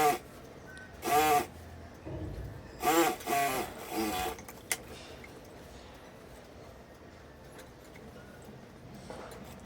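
A sewing machine double-stitches the separate lining of a girl's lehenga in short whirring bursts, close and moderately loud, followed by a stretch of quiet room tone.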